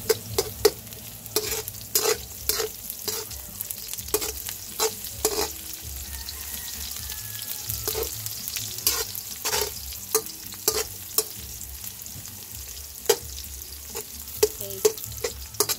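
Garlic sautés in a hot pan for adobo pata, a steady sizzle broken by sharp, regular clacks and scrapes of stirring, close and fairly loud with no voices.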